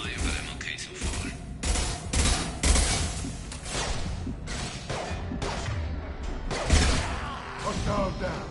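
Repeated bursts of gunfire in Mass Effect 2 Legendary Edition, loud irregular volleys and impacts through the whole stretch with combat voices talking over them.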